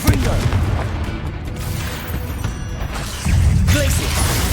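A Confringo fire spell blasts in Hogwarts Legacy: loud, booming bursts with crackling impact noise, one near the start and a heavier one about three seconds in, over continuous rumbling combat noise.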